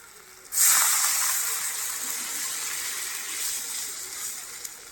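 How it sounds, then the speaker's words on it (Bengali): Water pours into a hot pan of masala-fried potatoes with paneer, setting off a sudden loud hiss that gradually settles into a steady, softer simmering sizzle. "তো আমি এবার একটু জল ঢেলে দেবো"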